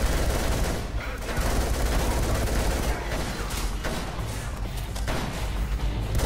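Rapid bursts of gunfire from the shooter game The Scourge Project, loud and continuous with dense overlapping shots throughout.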